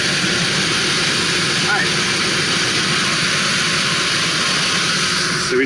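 York rooftop gas pack motor running, a steady broadband whir and hum close by, with a brief spoken word over it.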